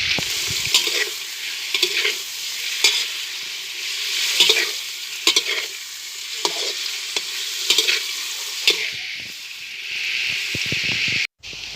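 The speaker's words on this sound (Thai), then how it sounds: "นี่ก็เป็นหมูติดมันเนาะค่ะพี่น้องเขาก็เจียวเจียวให้น้ำมันที่ในหมูมันออกอยู่จักน้อยเนาะค่ะ" Fatty pork sizzles and crackles in hot oil as it renders in a pan for a broccoli stir-fry, loud and close, with repeated scraping stirs and no talking.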